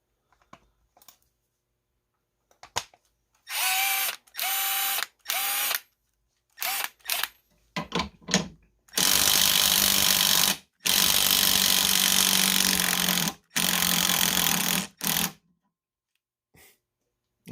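A DeWalt 12V XTREME brushless impact wrench rated at 100 foot-pounds runs in a torque test, with loud hammering bursts. Short stuttering pulses come first, then several long sustained runs close to the mic, separated by brief pauses.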